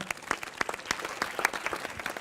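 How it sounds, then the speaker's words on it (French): Audience applause for youth creative-writing initiatives at a short-story contest event, heard as scattered, uneven hand claps from a modest crowd, fairly close and moderately loud, with no talk over it. "je crois qu'on peut applaudir ces initiatives"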